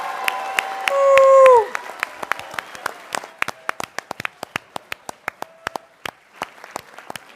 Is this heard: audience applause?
yes